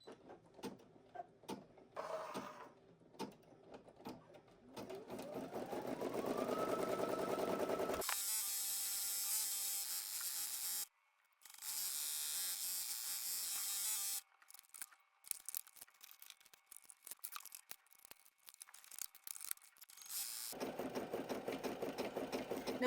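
An embroidery machine stitches a satin-stitch border around a heat-transfer-vinyl appliqué, a steady mechanical whir that runs in long bursts separated by brief stops and quieter pauses.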